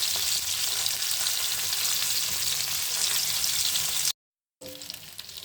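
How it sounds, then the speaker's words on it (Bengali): Rohu fish slices sizzle in hot oil for a papaya fish curry, a dense, steady hiss that holds for about four seconds before a brief dropout and then resumes. "মাছ ভাজি করা শেষ হলো,"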